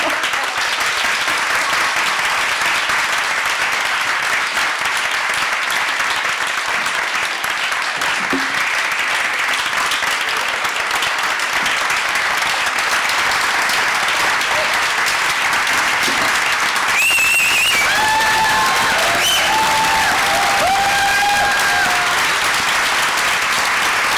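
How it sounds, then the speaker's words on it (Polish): Sustained applause from a theatre audience seeing off the creators of the film Słodki koniec dnia at a Kraków film event, loud and dense throughout, with a few whistles or cheers rising near the end. "Niech te brawa żegnają twórców filmu Słodki koniec dnia"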